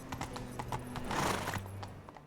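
Horse hooves clatter down a stone staircase in The Witcher 3, a quick irregular run of clip-clop strikes close by, with a brief snort or whinny and game ambience underneath.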